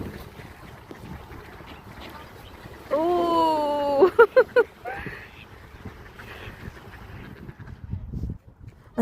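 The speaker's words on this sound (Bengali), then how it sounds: "লেকের পাশে এরকম অসংখ্য অসংখ্য হাঁস রয়েছে, যেগুলো কিনা দেখতে একদমই আমাদের দেশি হাঁসের মতো এবং ডাকেও একদম আমাদের দেশি হাঁসের মতোই" Ducks quack by a lake in a Finnish park, a loud run of drawn-out calls followed by several short, sharp quacks nearby, over wind noise with a voice speaking briefly.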